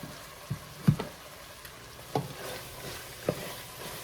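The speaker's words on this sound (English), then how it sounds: "I'm just going to mix it in like this with all the ham and the vegetables and stuff" Ham and vegetables stirred in butter in a soup pot, a few quiet scraping and clinking stirs spaced over a faint low sizzle, close by and without speech.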